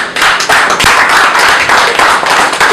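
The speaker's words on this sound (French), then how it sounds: "encouragé par vos applaudissements" Close, loud rhythmic clapping from an audience gathered at a diaspora event in Brussels, with dense, uneven hand claps striking in quick pulses throughout.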